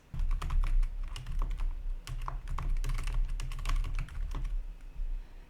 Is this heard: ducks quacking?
no